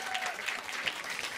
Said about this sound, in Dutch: Applausje voor de DJ.